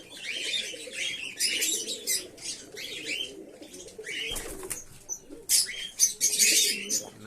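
A big pigeon coos in low bursts among chirping birds, while wings flap noisily in a short flurry midway and again near the end.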